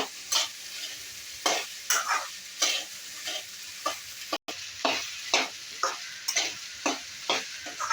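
Sliced okra and onion frying in oil in a pan, a continuous sizzle punctuated by regular rhythmic stirring scrapes, close and fairly loud, with a brief dropout midway.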